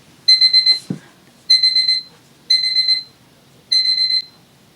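A medicine-reminder timer alarm beeps in four short bursts of rapid electronic pulses, loud and close with even gaps between them and one dull knock early on.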